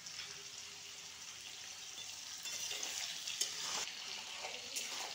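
Potatoes frying in a pan with a little turmeric, a steady soft sizzle and crackle with occasional stirring, growing slightly louder partway through, with no talking.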